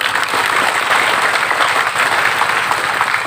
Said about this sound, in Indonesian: Tepuk tangan untuk pemerintah Muara ini.